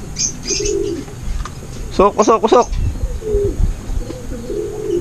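Racing pigeons arriving home at a derby loft, with soft bird calls and a brief burst of cooing and chirping over background noise, while someone talks nearby.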